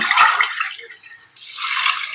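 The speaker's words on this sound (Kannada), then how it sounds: "ನಾಲ್ಕು ಲೋಟ ನೀರು ಹಾಕ್ತಾ ಇದ್ದೀನಿ" Water is poured into a cooking pot holding toor dal and chopped vegetables. It makes a loud, close splashing pour, then a short pause, then a second steady pour.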